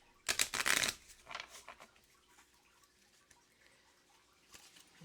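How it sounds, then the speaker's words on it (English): A deck of oracle cards is shuffled in a quiet room: one brisk riffling burst near the start, followed by a few softer card taps and rustles. "we're going to give this a shuffle."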